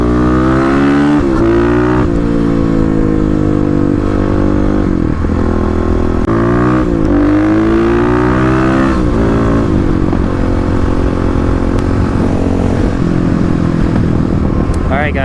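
A Kawasaki KLX351 and a Yamaha WR250R accelerate hard from a stoplight in a street drag race, engines loud and close as they rev up through repeated gear shifts.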